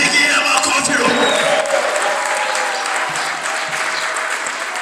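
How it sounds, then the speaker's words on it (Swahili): A church congregation applauds in a loud, dense, sustained wash of clapping that eases off slightly toward the end. "mpigie makofi Roho, mpigie makofi Roho"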